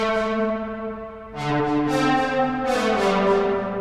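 Bell-like synth lead from an Analog Lab Town preset plays a few simple accented hits over a sustained chord bed, each strike bright and ringing with a decaying shimmer, moderately loud and without voices.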